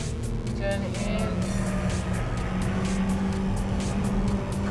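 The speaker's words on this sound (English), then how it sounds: "Car turns in nicely and sharp, and accelerate all the way down." A 2015 Hyundai i20 Sport accelerates hard and corners on a track, its engine droning steadily and loudly from inside the cabin with faint tire noise, no talk over it.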